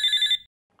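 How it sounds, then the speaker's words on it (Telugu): A telephone bell rings in one short electronic burst, loud and close, then cuts off into near silence with a faint click afterward. "ఫోన్ వస్తుంది, చూస్తావే."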